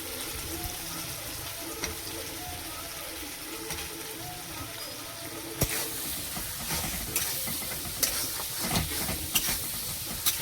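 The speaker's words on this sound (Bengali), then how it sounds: "আলুটা ভালো করে মশলার সাথে আর একটু ভেজে নেব ভালো করে।" Potatoes fry with spice paste in a pan, giving a continuous close sizzle and hiss, with scraping stirs and clatters growing busier in the second half and no talk.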